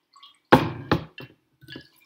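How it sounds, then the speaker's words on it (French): Water drips and splashes in a few short bursts while water kefir grains are rinsed, two louder splashes followed by fainter drips, close by and without talk. "je fais juste me rincer encore un peu plus pour être sûr de tout garder mes grains"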